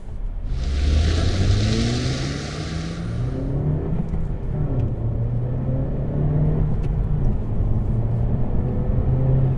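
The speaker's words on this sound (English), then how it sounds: "Turbocharged manual Civic." A 2017 Honda Civic Hatchback 1.5T turbocharged manual engine accelerating, its tone climbing through gears in rising sweeps with a brief hiss early on, heard steadily from inside the car.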